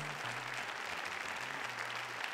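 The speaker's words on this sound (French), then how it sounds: "Prenez le devant de la scène pour recevoir non pas des waouh, mais des applaudissements bien mérités" Applause from an audience at a French awards ceremony as a trophy winner comes on stage, a steady dense patter of clapping throughout with a low hum beneath.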